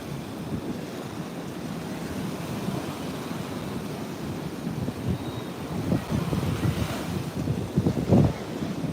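Ocean surf and steady wind at Virginia Beach on a live beach walk, a continuous washing roar of waves with wind buffeting the microphone, swelling louder near the end as a wave breaks close by.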